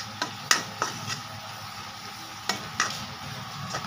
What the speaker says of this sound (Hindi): और अभी इसे अच्छे से चला लेते हैं